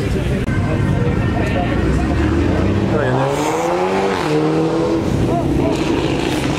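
A Volkswagen Golf drives past at an outdoor car meet, its engine note rising and then falling as it goes by, with other car noise and voices nearby.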